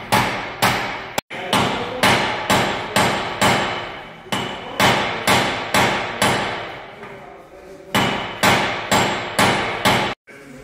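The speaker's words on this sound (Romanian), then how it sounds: "deci dai cu ciocanul ăsta și nu e." Heavy steel hammer blows strike the ABS ring on a BMW E90 in a workshop, about twenty loud, sharp metallic impacts in steady bursts with brief pauses.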